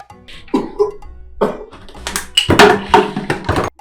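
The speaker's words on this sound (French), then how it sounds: "Est-ce que tu viens de tousser?" A few rough coughs and throat-clearing sounds, close and fairly loud, coming in an irregular cluster with short pauses between them.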